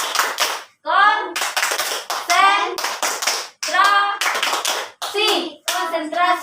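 Children in a classroom perform a rhythmic concentration clapping routine, sharp bursts of hand claps in patterned groups alternating with chanted voices, loud and close.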